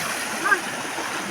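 Water from the Busay Falls river rushes and splashes in a continuous wash, with brief chirpy sounds on top.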